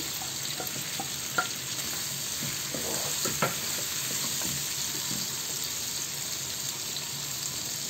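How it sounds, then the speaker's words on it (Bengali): Chopped onion frying in a pan for a pointed gourd and potato fry, giving a steady, loud sizzle with scattered clicks and scrapes of stirring and no voices. "যেমন আমি এখন দিয়ে দেব পেঁয়াজ কুচি,"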